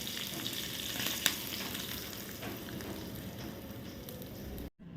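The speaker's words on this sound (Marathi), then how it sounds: "आपण या आता ही साबुदाण्यावर फोडणी घालूया" Hot cumin and chilli tempering poured over soaked sabudana, giving a steady, fairly faint hiss and crackle with one sharp tick early on, then cutting off abruptly just before the end.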